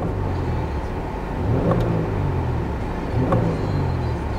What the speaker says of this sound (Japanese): 軽くレーシングアクセル空吹かしてみます